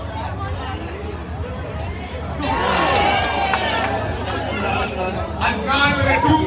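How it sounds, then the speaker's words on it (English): A crowd at a 3x3 basketball national final cheers and chatters, the noise swelling partway through, with shouts rising over a steady hubbub and game sounds. "we've got the crowd rooting for both sides as well"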